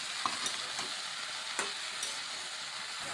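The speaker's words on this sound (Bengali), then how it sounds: "এবার ভালোভাবে মিশিয়ে নিচ্ছি।" Pointed gourd with salt and turmeric being stirred in a pan, soft frying sizzle under intermittent scraping strokes of a spatula, close and fairly quiet, no talking.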